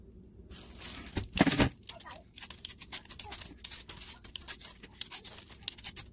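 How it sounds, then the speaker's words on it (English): Yams are peeled with quick scraping strokes, a run of short rasping passes close up after one louder swipe near the start, with faint talk in the background. "I'm going to start peeling these yams"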